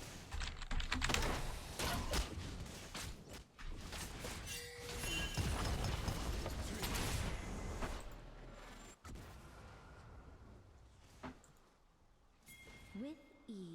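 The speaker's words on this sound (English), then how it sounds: "Stop typing." Rapid, uneven typing on a computer keyboard clatters close by, layered with League of Legends game effects and bursts of noise, while people talk throughout.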